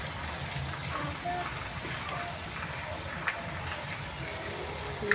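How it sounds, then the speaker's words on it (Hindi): Heavy rain in Punjab, Pakistan, a steady, moderately faint hiss of falling water with scattered patters and splashes throughout. "तेज बारिश हो गई, तेज"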